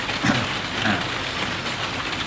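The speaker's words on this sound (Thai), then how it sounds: "เริ่มมีฝน" Evening rain beginning to fall, a dense steady hiss of drops on surfaces filling the space evenly, moderately loud, with no voices.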